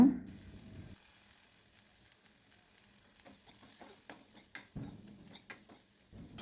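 Soft, faint sizzling of onions, green chilies and grated coconut sautéing in a pan, with occasional scraping and stirring clicks throughout.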